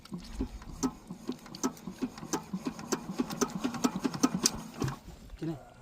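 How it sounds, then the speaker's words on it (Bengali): Shallow-machine water pump engine being cranked to start while it turns stiff and tight, giving a steady run of close, rhythmic chugging knocks and clatter that never catch into a smooth run. "মেশিনটি এখন স্টার্ট করা হচ্ছে, দেখতে পাচ্ছ বন্ধুরা।"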